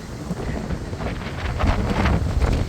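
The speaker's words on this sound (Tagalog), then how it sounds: "Siya medyo malakas-lakas ang hangin." Strong, cold wind on the coast of Bermuda buffets the microphone with a steady low rumble and gusting roar, growing louder toward the end, with no voices.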